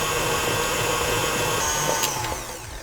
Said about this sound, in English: just turn the speed up and whiz it for a minute or so just to get it all nice and fluffy